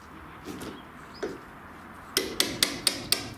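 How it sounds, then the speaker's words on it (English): Sharp hammer strikes ring out, a few scattered blows followed by a steady run of five evenly spaced bangs, moderately close outdoors. "someone's hammering away"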